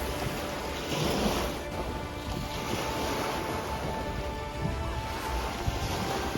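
Waves wash against the Arctic Ocean shore at Tuktoyaktuk under steady wind that buffets the microphone, making a constant broadband rush with slight surges and no voices.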